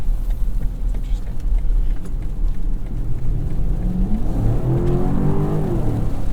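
A 2023 BMW X7 M60i SUV accelerating at three-quarter throttle, its engine note rising steadily in pitch from inside the cabin over a low road rumble.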